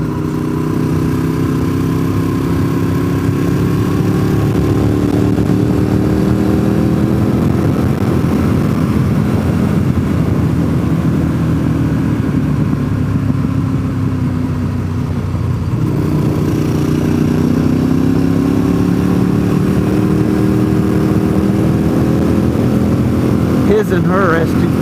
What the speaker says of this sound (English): And there's a motorcycle pulling a trailer.